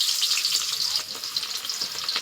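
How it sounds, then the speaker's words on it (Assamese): Potatoes fry in a pan in a home kitchen, a loud, continuous crackling sizzle with bright spitting close by throughout. "সেইকাৰণে আলু ভাজিয়ে বনাই দিছোঁ।"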